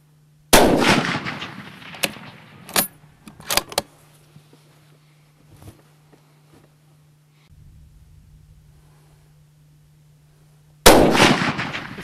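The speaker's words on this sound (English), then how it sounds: "he's going to fire a shot at 200 yards and then move right to the 400-yard target system and then fire 3 shots" Two loud, sharp rifle reports from a stock Ruger M77 fired at long-range steel targets, one near the start and one near the end, with a few fainter clicks and handling noises between and a steady low hum underneath.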